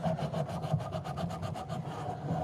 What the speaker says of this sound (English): right now I'm just sanding this down some more